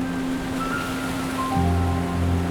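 Ocean waves at Butterfly Beach in Goa, a loud continuous wash of surf with a steady hiss and low rumble, plus some faint tonal hum layered over it.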